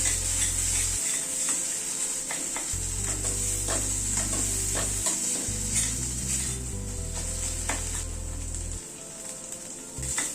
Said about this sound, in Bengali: এই তিল আর নারকেলটাকে ভালো করে কষিয়ে নেব